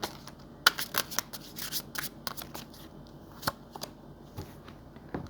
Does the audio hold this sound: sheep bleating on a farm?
no